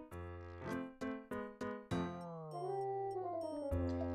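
Dogs in the Inazuma Eleven 3 video game give a run of short, tonal, synthesized barks in a quick rhythm, then stretch into a long, falling, howl-like cry, clear and without speech.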